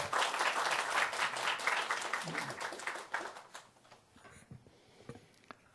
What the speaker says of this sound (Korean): 여러분 뜨거운 박수 부탁드리겠습니다